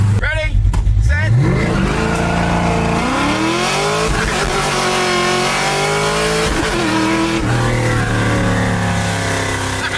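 Old Ford Mustang accelerating hard, its engine revving and climbing through gears with rising pitch, loud and close from inside the car, a shift break midway; a voice talks over it.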